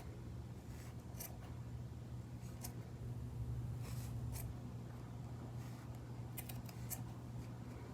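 Scissors snip through yarn loops wound for a pom pom craft, making a handful of soft, faint cuts spaced irregularly over a steady low background hum with no talking.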